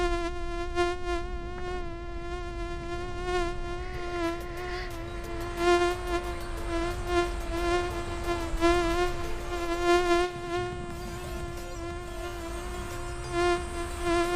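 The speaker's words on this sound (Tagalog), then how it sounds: "tinusubukan ng lamok na ito hanapin ang tamang lugar para kumain at magpahinga" A mosquito's high, thin whine hums continuously and close by, wavering slightly in loudness throughout.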